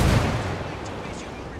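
A grenade explodes in the shooter video game Ghost Recon Wildlands, a loud close blast that opens with a heavy low thump and fades into a rumbling decay.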